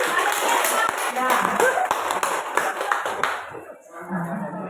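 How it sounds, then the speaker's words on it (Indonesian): An audience claps together at a school dissemination event, a dense burst of hand claps in a busy room with voices mixed in, fading out toward the end. "Tepuk tangan untuk kita semua."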